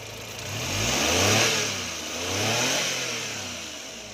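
A DA62T pickup truck engine runs close by, its low rumble swelling and easing in two gentle revs over a steady idle.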